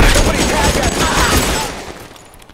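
A burst of rapid, close gunfire in the crime game L.A. Noire, loud and sharp at first and then fading away.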